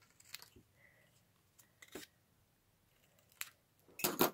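Scissors snip through card popper strips in a quiet papercraft setting: a few sharp, separate close-up cuts spaced out, ending in a louder crunching snip.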